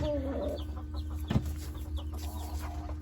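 Painted silkie chickens cluck softly nearby, a few short clucks over a low steady hum, with one sharp clack partway through.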